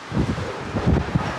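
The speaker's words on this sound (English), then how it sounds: "It's really, really windy here today" Strong gusts of wind at the scenic overlook above Hoover Dam buffet the microphone, giving a brief, loud, rumbling rush that swells and dips for a moment.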